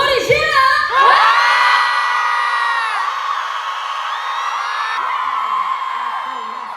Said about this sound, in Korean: 1층에 계신 분들 소리 질러!